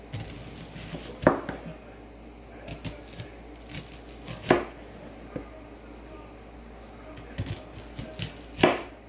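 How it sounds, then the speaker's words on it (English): A knife chops an onion into thick slices on a cutting board, with a few distinct thuds spaced seconds apart and softer cuts in between, close by under quiet room noise. "now, y'all, we're just going to cut it into some thick slices"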